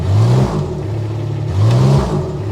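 A 2021 Kubota RTV-X1140 4x4 four-seat utility vehicle with a convertible dump bed accelerates in full drive, its mid-pitched engine revving up and down in two loud surges with a steady whir underneath.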